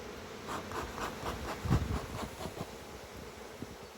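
Honeybees buzzing in a nuc hive during an inspection, a continuous close hum with scraping and a heavier bump partway through, and no talking.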